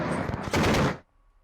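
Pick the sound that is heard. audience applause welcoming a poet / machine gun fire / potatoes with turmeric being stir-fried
machine gun fire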